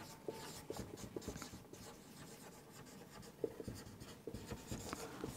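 A pen writing on a board during an English grammar lesson, with steady scratchy strokes in short bursts, close and fairly quiet, with no talking.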